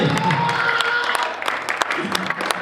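Audience applause at a rap listening session, a brief burst of scattered clapping and crowd noise that thins out, with a voice speaking over it.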